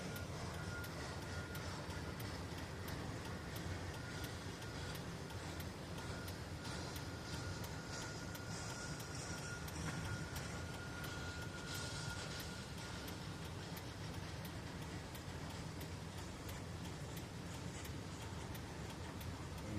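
Continuous low rumble of a long train rolling past at night, steady and unbroken throughout, heard from nearby with faint clanking.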